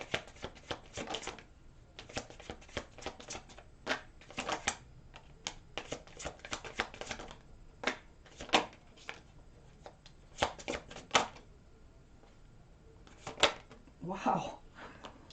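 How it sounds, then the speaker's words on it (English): Tarot cards being taken out and shuffled, a dense run of quick papery riffles and flicks in irregular bursts, fairly close and moderately loud, with a voice talking intermittently. "Let me take out the rest of these cards for Sagittarius"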